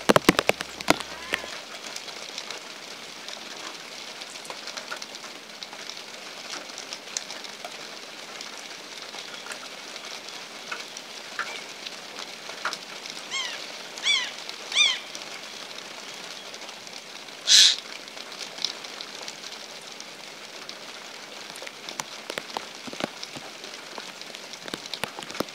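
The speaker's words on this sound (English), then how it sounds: "And then it started to rain." Soft, steady patter of rain falling on surfaces outdoors, a fairly quiet continuous hiss with scattered drips and occasional louder taps.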